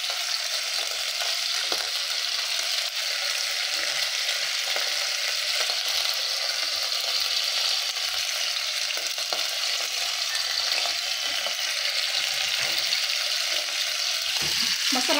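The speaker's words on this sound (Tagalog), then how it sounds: "Para yung mantika dito malsik kasi oily na yung sahig." Food sizzles and crackles steadily in hot oil in a covered pan, a dense, continuous frying hiss with a few small pops throughout, near and alone with no talk.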